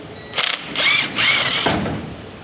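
Wrench ratcheting and clicking while a steering gearbox is pulled off a 1970 Chevy C10, in three close, loud bursts of metallic mechanism noise with short pauses between them.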